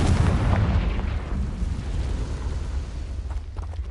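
A Confringo fire spell explosion in Hogwarts Legacy, a loud, deep, rumbling blast that roars at its loudest from the start and then slowly fades while the fiery rumble carries on to the end.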